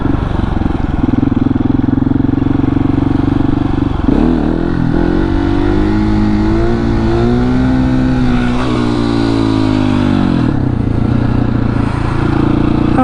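A KTM 701 motorcycle engine revs loudly and continuously in first gear during wheelie practice, the pitch climbing and dipping with throttle changes and a sharp drop around a throttle chop, close and steady throughout.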